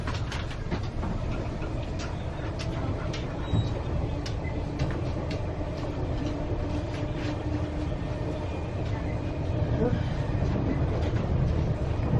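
The Spirit of Queensland passenger train runs at speed toward Caboolture, a steady loud rumble with a continuous low roar and clattering wheels, heard from inside the carriage, with faint voices underneath.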